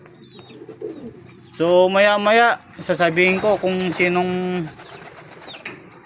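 Several pigeons coo close by in a series of rounded, pulsing calls, with someone talking over and between them.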